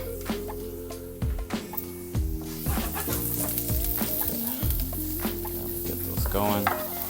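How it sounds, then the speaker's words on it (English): Steady sizzling of vegetables stir-frying in a pan, with a few sharp clinks and scrapes of stirring throughout, close and fairly loud. "Nice sizzle in there."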